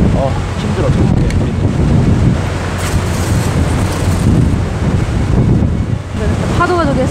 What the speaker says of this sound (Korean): 바람이 저쪽에서 이쪽으로 옆으로 불거든요.